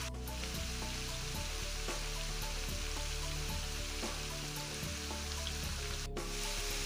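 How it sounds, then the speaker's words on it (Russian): Sticks of zucchini frying in a pan over high heat produce a continuous close, loud sizzle with scattered pops and crackles, steady for several seconds with no voices. "Жарю на сильном огне до образования золотистой корочки."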